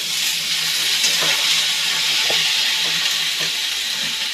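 Eggplant and turmeric frying in a hot pan, a steady close sizzle running the whole time with a few soft stirring clicks, no voices.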